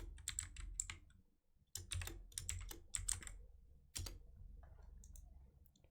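Fingers type on a computer keyboard in quick clattering bursts of keystrokes, with a short pause and then a softer trailing run, close and fairly quiet.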